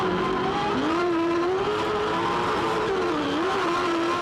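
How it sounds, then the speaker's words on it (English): A 2007 V8 Supercar at Pukekohe Raceway spins its wheels on wet grass, its engine holding a loud, high wavering rev as the tyres fail to grip. "Listen to that wheel spin on the grass."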